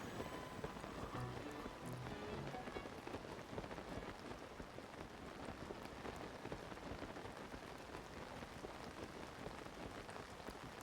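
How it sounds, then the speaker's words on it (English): Rain pouring down in the Faron region of the video game Zelda: Tears of the Kingdom, a dense, even patter of drops with a faint thunder rumble underneath, no talk. "That is the unfortunate thing about the Faron region, is that it rains all the freaking time."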